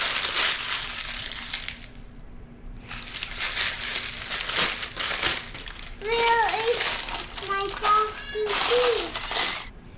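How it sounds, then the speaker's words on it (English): Parchment paper being crumpled up by hand in a home kitchen, crackling in bursts of broadband crinkling noise, close and fairly loud, with a voice chiming in over the later crinkles. "parchment paper doesn't like to go in and stay in. So, as I showed in the last video, all you have to do is crumple it up"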